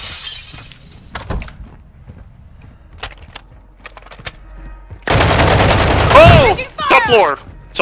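Gunfire in a multiplayer shooter video game, a dense sustained burst of rapid shots lasting over a second, loud and close, followed by a couple of shorter bursts, with occasional clicks and faint sounds before it.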